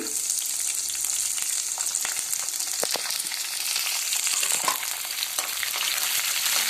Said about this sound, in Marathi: हिरवी मिरची छान अशी लालसर होईपर्यंत भाजायची आहे